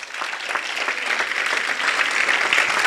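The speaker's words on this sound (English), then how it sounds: "Let's give the Lord another hand clap of worship." A church congregation breaks into applause during a worship service, dense hand clapping that swells steadily and grows louder over a few seconds, close and sustained.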